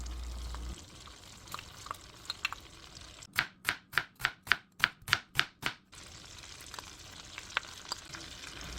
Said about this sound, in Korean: 팬에 무염 버터를 녹이고 마늘 5스푼과 다진 양파를 넣고 잘 섞어줘요.